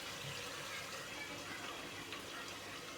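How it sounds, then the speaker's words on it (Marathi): Water bubbling at a boil in a pot on a gas stove, prepared for chicken biryani, a steady, close, continuous rushing burble that holds evenly throughout with no speech. "बघा उकळी फुटत आहे"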